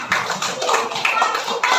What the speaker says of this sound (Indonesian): Mari kita tepuk tangan semuanya